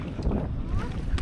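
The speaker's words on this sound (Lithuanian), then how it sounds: "Plaukiam su šita valtele dabar į savo" A small boat carries passengers across the harbour to Birgu, Malta, with steady motor and water rumble mixed with wind noise on the microphone, brief and continuous.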